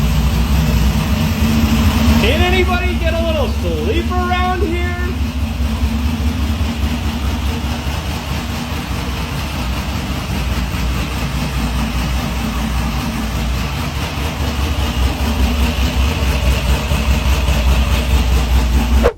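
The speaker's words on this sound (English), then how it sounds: "fire it up in your college apartment with the exhaust hanging out of the" A rebuilt car engine idling indoors in a college apartment with its exhaust run out the window, a loud steady low drone that holds throughout, while a person speaks briefly near the start.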